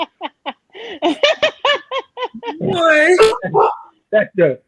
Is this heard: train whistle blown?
no